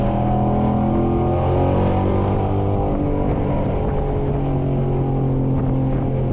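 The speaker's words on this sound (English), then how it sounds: "Like when I smash the gas right here, it's like," A cammed widebody Dodge Challenger Scat Pack accelerates hard, its loud V8 exhaust roaring and climbing in pitch as it pulls through the gears, heard from inside the car with wind noise and no talk.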